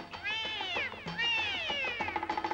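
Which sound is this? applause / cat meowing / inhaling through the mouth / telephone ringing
cat meowing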